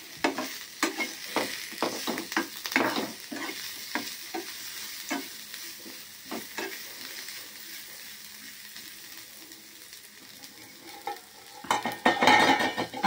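A pinch of turmeric is stirred into ridge gourd chutney frying in a pan, giving rhythmic spoon scrapes over a soft, steady sizzle, with the stirring growing busier and louder toward the end.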